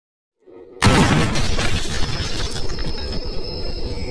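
A single sharp gunshot cracks loudly from near silence as an old man shoots himself, its broad blast trailing into a long, noisy ringing decay with no voices.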